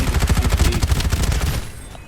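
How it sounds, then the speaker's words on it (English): Rapid automatic gunfire from the shooter game Farlight 84, a fast steady burst of close, loud shots for about a second and a half that cuts off and fades into quiet. "I was just gonna say I shot the shit out of him"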